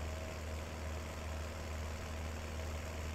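A tractor engine idles steadily in Farming Simulator 19 on PS4, a low, even rumble with a constant hum and no pauses or talk.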